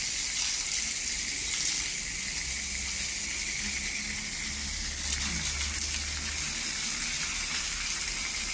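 Steady hiss of water spraying from a shower head onto turtles, running continuously at an even level with a faint low rumble underneath.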